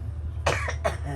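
Two quick, close coughs come one after the other, clear and unmasked, over a low steady background hum.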